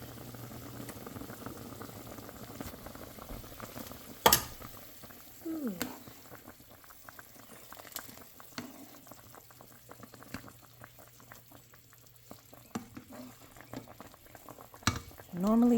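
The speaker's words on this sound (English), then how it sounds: "All right, the soup is boiling." Chicken soup bubbles gently in a pot with a soft, steady simmer, broken by a few faint clinks and light knocks.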